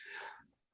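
A single sharp sneeze, close and brief, followed by a moment of silence and a short sound at the end.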